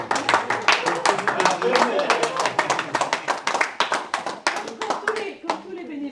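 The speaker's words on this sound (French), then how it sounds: "Je pense qu'on peut l'applaudir parce qu'Arnaud il vient sur son temps personnel." Audience clapping for a volunteer stage director at a theatre making-of gathering; a small group applauds with dense, close, crisp handclaps that thin out near the end, while voices speak over it.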